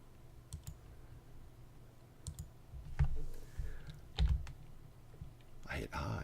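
A computer keyboard tapped in sparse, scattered key presses, with light clicks spread unevenly over a quiet background.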